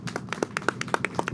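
A small forum audience at a cultural policy discussion claps to welcome the next speaker, with distinct individual hand claps in a loose, uneven rhythm, fairly close and moderately loud.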